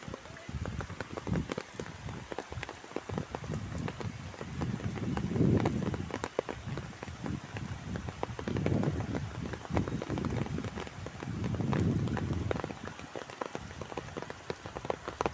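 Rain falls steadily on a flat's roof and surfaces in a house, a continuous hiss with heavier surging patches, no talk heard.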